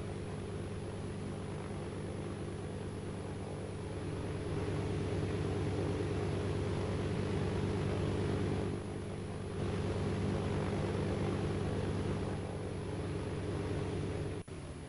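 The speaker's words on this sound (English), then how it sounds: "I saw another plane here." An airplane flies in the Arma 2 DayZ video game, with a loud, steady engine drone and rumble that holds throughout and only dips briefly, with no voices.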